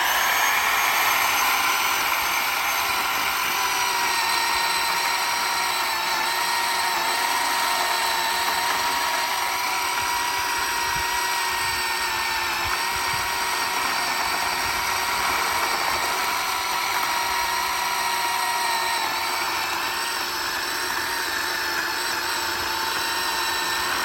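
A Bauer 10-inch 20V cordless chainsaw bites into a 7-inch log, its high electric whine running loud and unbroken throughout, with a rougher cutting rasp underneath and no one speaking.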